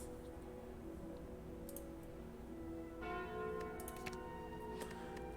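The Calling Bell item in a video game gives a faint, resonant bell chime with lingering tones, rising softly out of a steady, quiet musical background.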